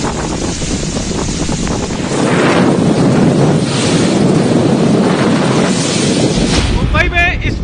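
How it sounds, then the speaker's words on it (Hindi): Strong cyclone winds roar through Mumbai in a loud, continuous buffeting rush that batters the microphone, rising in strength partway through, with a brief tonal whistle near the end. "मुंबई में इस वक्त बड़ी ही तेज हवाएं चल रही हैं।"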